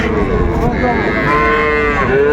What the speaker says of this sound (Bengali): এই গরুটি ষাঁড় বাচ্চা ফ্রিজিয়ামের